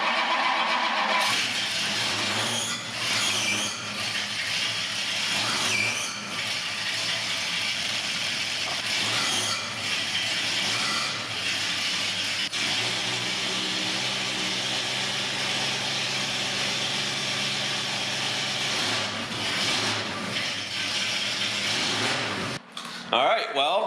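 A 1962 Mercury engine cranks, fires and settles into a steady running idle, heard at moderate distance with a persistent belt squeal, while people talk over the engine noise.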